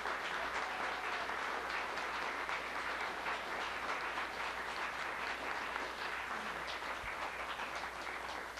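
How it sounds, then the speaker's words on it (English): Audience applause at a holiday music recital, a steady dense wash of many hands clapping throughout, moderately distant and sustained without talk. "give these guys a round of applause because they work really hard"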